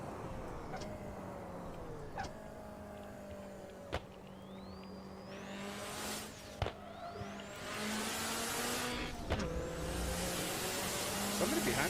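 Honda S2K sports car in a driving video game, engine tone rising and falling through repeated gear shifts with sharp clicks between, steady and close, alone without talk.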